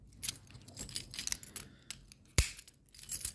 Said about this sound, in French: Les vieilles clés de bagnole, tu vois, comme ça.